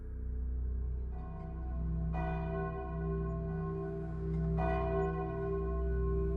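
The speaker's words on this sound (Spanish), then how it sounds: "las campanas de la iglesia marcan el ritmo de la vida cotidiana." Church bells ring out in a steady, resonant peal, with fresh strikes swelling the sound every couple of seconds as the tones hang in the air.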